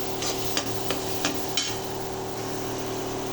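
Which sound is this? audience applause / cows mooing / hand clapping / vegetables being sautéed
vegetables being sautéed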